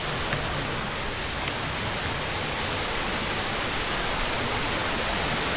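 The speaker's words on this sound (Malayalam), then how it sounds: "അടുത്തടുത്തുള്ള വെള്ളച്ചാട്ടങ്ങളും പ്രകൃതിദത്തമായ വെള്ളച്ചാട്ടം." Natural forest waterfalls roar in a steady, dense wash of falling water, loud and continuous throughout with no breaks or voices.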